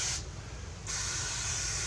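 A spray bottle mists water onto the soil of a pot sown with Lithops seeds, giving a close, steady hiss that stops briefly and then resumes in a longer burst.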